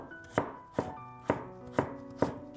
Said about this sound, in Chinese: 下面准备一块生姜，先切成薄片，再切成细丝。